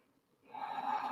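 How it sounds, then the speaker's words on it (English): A single deep, airy breath during a yoga child's pose, starting after a brief near-silence and then holding as a soft, close exhale. "Deep breathing for"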